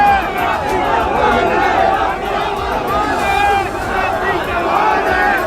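A large, dense crowd gathered outside Lal Parade Ground, a continuous roar of many voices shouting and chanting at close range, with no pauses across the whole stretch.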